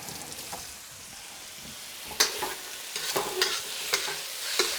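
Tomatoes cooking in a pan with white pepper and salt, a soft steady sizzle broken by several sharp scrapes and clacks of stirring, no voices.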